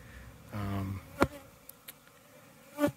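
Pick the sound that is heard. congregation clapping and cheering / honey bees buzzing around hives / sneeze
honey bees buzzing around hives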